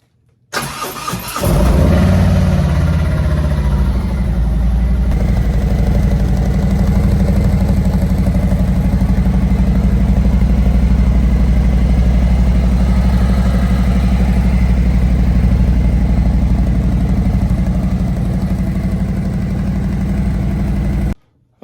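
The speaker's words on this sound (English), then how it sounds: "Let's give this bike a start so you can hear what it sounds like stock without cams and without" A stock 2018 Harley-Davidson Road Glide Special with factory exhaust and cams cranks over and fires up, then settles into a steady, loud, loping V-twin idle for about twenty seconds before shutting off. No one speaks.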